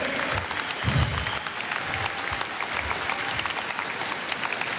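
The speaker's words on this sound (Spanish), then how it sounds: "Por eso yo les pido un aplauso para ustedes." Dense applause from a wrestling event audience at a Héroes Inmortales tribute to Antonio Peña, a steady wash of clapping with a swell near the first second and occasional low thumps.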